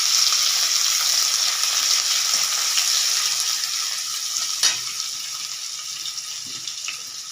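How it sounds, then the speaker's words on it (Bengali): Chopped onions frying in oil with cinnamon for chicken curry, a loud, dense hiss close up that eases slightly over time, with a single faint knock partway through. "কুচানো পেঁয়াজগুলো আস্তে আস্তে দিয়ে দিলাম"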